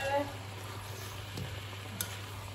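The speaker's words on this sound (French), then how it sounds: "J'ai plus qu'à incorporer mes patates, à tout mélanger" Potatoes being stirred into an omelette mixture in a pan give a soft, steady sizzle with light scraping, faint and close, with no talking.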